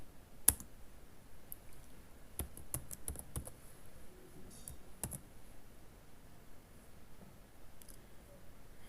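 Keystrokes on a computer keyboard while C program code is typed, sparse and irregular clicks with short bursts, close and fairly quiet, no talking.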